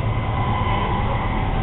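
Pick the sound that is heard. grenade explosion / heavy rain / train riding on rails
train riding on rails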